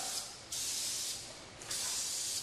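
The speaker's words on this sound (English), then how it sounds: "spray the end bearing, spray the outer side, and the oil will seep in there." Lubricant oil sprays onto garage door parts in two close bursts of hiss, the first about a second long and the second slightly longer, separated by a short pause, with no talking.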